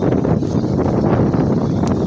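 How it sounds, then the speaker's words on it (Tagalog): Strong monsoon wind sweeps over open sea from a fishing boat, a loud, continuous roaring buffet that blasts the microphone without letup. "Lakas ng hangin."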